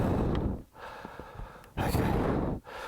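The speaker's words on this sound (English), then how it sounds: "Lots of heavy breathing." Heavy, labored breathing close to the mic, with two long noisy breaths separated by brief pauses, loud and rhythmic, with no talking.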